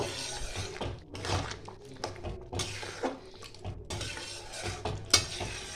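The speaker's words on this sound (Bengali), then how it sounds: "উপর থেকে একটু আমি ধনে পাতা ছড়িয়ে দেবো দিয়ে একটু নাড়াচাড়া করে নেব" Moong dal muri ghonto with coriander leaves being stirred in a pan, giving repeated scraping and clinking strokes of a spoon against metal over a low simmer, with one sharp clink near the end and no voices.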